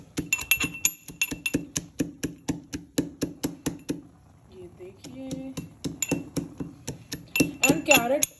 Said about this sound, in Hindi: अब मैं क्रश कर लूँगी अपने पिस्ता को